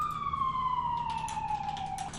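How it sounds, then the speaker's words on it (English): An emergency siren wails steadily in the background, its single tone sliding slowly downward, distant and fairly faint over a low rumble of traffic. "I apologize for the sirens."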